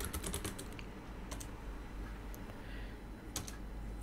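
Fingers type Python code on a computer keyboard, clusters of quick close key clicks separated by pauses, set against a steady low background hum.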